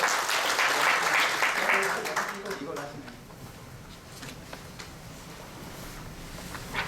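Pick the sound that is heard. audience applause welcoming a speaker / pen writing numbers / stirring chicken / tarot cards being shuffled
audience applause welcoming a speaker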